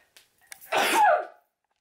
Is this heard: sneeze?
yes